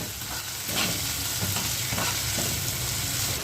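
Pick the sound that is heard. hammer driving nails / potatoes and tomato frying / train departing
potatoes and tomato frying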